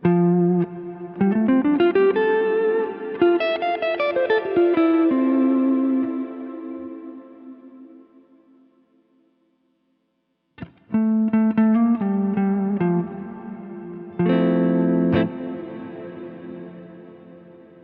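Guitar notes pass through a Strymon Cloudburst ambient reverb pedal, swelling into long shimmering washes that fade to silence before new chords bloom with near-infinite sustain.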